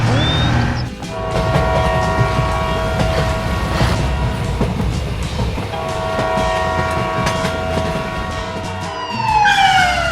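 Miniature DIY train running on a handmade toy railway, a steady loud rolling rumble with horn-like sustained tones throughout and a rising whistle near the end, no talk.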